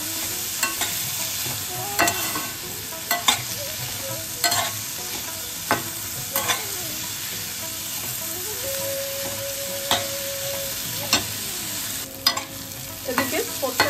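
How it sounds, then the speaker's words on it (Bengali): Banana stem frying in a pan with salt, turmeric and Kashmiri chilli powder, a steady close sizzle broken by repeated scraping stirs of a spatula against the pan, with a brief hiss partway through. "এদিকে থোড়টা কিন্তু আমাদের মশলা সহ খুব ভালোভাবে কষানো হয়ে যাচ্ছে।"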